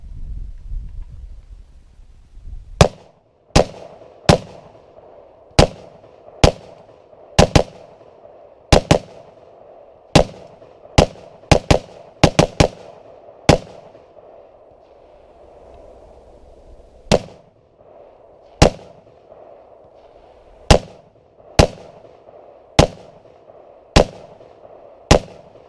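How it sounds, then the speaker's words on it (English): Gunshots from a Mini Draco SBR rifle at an outdoor range: about two dozen sharp, loud single reports fired at an irregular pace, some in quick bunches, with short pauses between and no talking. "All right, here are the shots shooting the Mini Draco SBR."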